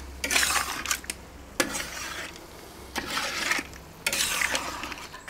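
Paella rice being stirred in a wide pan, with repeated scraping strokes in bursts of about a second, separated by short pauses, close and fairly loud.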